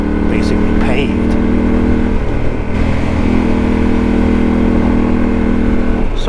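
A Yamaha Ténéré 700 motorcycle rides along a potholed, mostly paved rural road in Arkansas, its engine droning steadily with a constant low hum, under a rider's voice.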